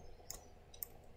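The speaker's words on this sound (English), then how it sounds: "this is going to be a lot of clicking on my part" A few sharp, faint clicks, roughly two in quick succession, as a button is pressed to advance a 4017 decade counter circuit, heard close with no talking.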